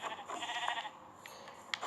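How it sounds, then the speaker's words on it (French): A Minecraft sheep bleats a few times, soft and slightly muffled, over a faint steady background, with no talking. "Il y a un troisième mouton."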